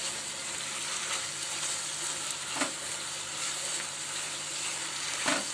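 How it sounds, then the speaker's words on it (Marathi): Carrot halwa with sugar and milk stirred in a pan as it cooks down, giving a steady soft sizzle with a few faint scrapes of the spoon, no talk over it. "थोडंसं ओलसर आहे, ते सुकेपर्यंत आपल्याला हलवत राहायचं आहे।"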